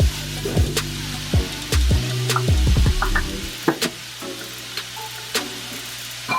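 Garlic goes into a hot pan for a sweet potato and chicken sausage breakfast hash, giving loud close sizzling and frying with scraping stirs and clinks of a utensil against the pan, uneven and busy at first, then settling into a steadier hiss.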